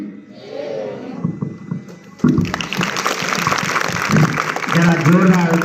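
Applause from students at a government intercollegiate school gathering in Kandiyal village breaks out suddenly after a voice, dense clapping continuing loudly under ongoing talk.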